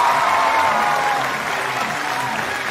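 A studio audience at a kids' singing competition semi-final gives loud, sustained applause that gradually eases, close and dense with no talk over it.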